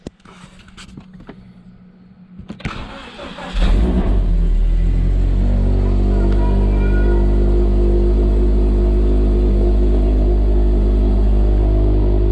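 Clicks and a brief crank, then a car engine cold-starts and settles into a loud, deep, steady idle rumble with a throaty aftermarket exhaust tone.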